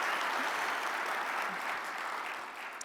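Conference audience of community bankers applauding, a steady wash of clapping heard from within the crowd that holds level and tapers slightly near the end.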